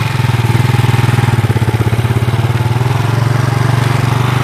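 A motorcycle engine running steadily at close range, a loud, even pulsing idle throb that holds for several seconds with no speech over it.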